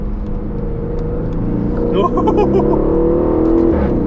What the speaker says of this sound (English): Moving down into second for this one.